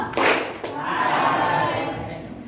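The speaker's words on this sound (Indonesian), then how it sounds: "Tepuk satu" Children in a classroom give a short clap on cue, one main burst with a faint trailing hit, then voices carry on afterward.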